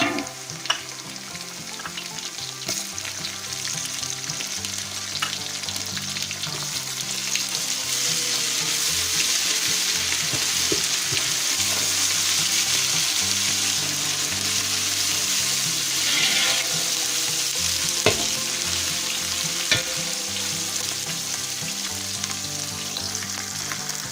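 Onions sizzle in hot oil with garlic-ginger paste for vegetable biryani, a dense, steady frying hiss heard up close, broken now and then by stirring clinks, with no talking.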